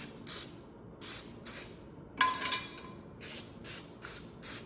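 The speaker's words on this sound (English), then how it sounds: "I'm going to take these rings and spray olive oil" Olive oil cooking spray hisses in short repeated bursts into metal crumpet rings on a stovetop, with about seven spritzes in a steady rhythm. One burst runs longer, and no one talks.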